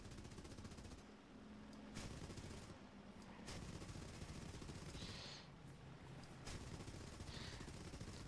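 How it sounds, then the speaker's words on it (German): Steady rapid machine-gun fire from War Thunder aircraft crackles through a dense, noisy mix, with occasional louder bursts standing out over continuous background clatter. "die Schüsse fliegen so richtig langsam"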